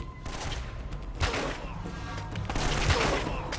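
Gunfire from Uncharted: Drake's Fortune crackles in several bursts of rapid shots and impacts, moderately loud, with someone speaking over part of it.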